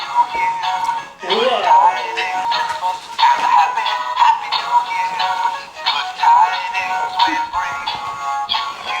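A toy dog yaps and whines in a steady electronic loop, running continuously under excited chatter and a child's squeal.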